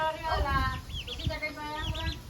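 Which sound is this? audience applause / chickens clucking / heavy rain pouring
chickens clucking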